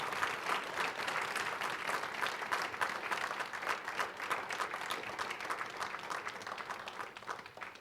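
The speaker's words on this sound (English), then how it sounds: "Yes, big applause." Sustained audience applause at a guest lecture by a retired major general, a dense, even wash of many hands clapping for the full stretch, fairly loud, with no clear talk over it.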